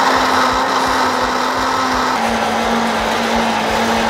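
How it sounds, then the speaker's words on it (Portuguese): A kitchen blender whirs steadily as it blends skinless, unsalted peanuts with coconut milk, a loud continuous motor drone with a slight pitch drop midway, cutting off at the end. "batendo no liquidificador, o nosso amendoim"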